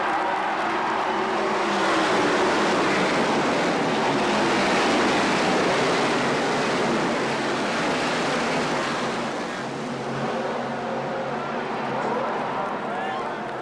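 Stock cars roar at the green-flag start of the inaugural Brickyard 400 NASCAR race, a dense, sustained wash of engine noise and crowd, with a voice speaking over it.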